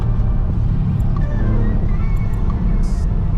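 A Mercedes CLS 500 V8 biturbo sedan on winter tires and 18-inch wheels drives along a road, giving a continuous low engine hum and road roar, with a few faint clicks and a brief higher hiss near the end.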